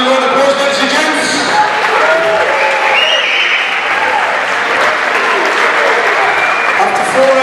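Arena crowd applauding two boxers after a four-round professional bout, steady dense clapping filling the whole stretch with some cheering and voices mixed in.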